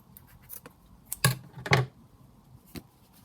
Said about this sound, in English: I'm just going to cut it here